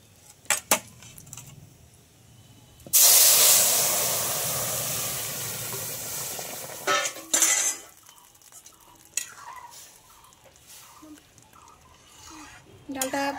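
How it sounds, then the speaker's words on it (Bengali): Dal for a vegetarian dish with bottle gourd greens is poured into hot tempering, setting off a loud, sudden hiss that fades over several seconds, framed by clinks of utensils and stirring. "ফোড়নটা হয়ে গেছে, আমি ডালটা ঢেলে দেবো"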